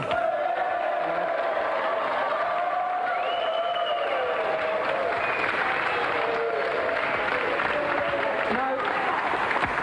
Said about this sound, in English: Another round of applause for Pat Sharp and Mick Brown.